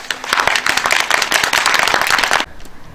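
An audience at a Korean commemorative ceremony for the March 1st Independence Movement breaks into loud, dense applause that carries on briskly, then cuts off sharply, leaving quiet room tone.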